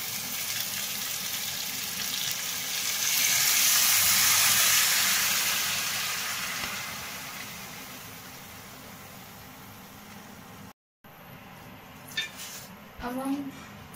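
Fenugreek leaves frying with potatoes in a pan for methi aloo, a steady sizzling hiss that swells loudly for a few seconds, then eases off, with a brief clatter near the end.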